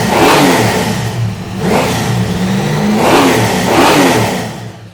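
An Australian street car, a GM Holden or Ford with a solidly cammed engine, revs repeatedly in loud, close bursts, rising and falling in a rough rhythm across the whole stretch.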